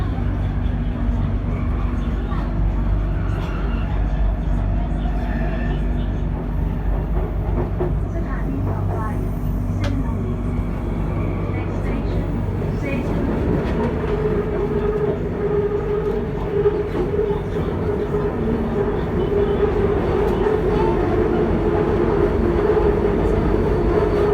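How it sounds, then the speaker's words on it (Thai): Steady rumble and rattle of a BTS Skytrain elevated metro car in Bangkok travelling from Chong Nonsi toward the new Saint Louis station, continuous and close, with track clatter and a rising whine in the second half. "เรากำลังนั่งรถไฟฟ้าจากสถานีช่องนนทรีไปสถานีใหม่เซนหลุย"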